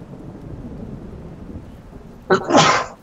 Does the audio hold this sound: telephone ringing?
no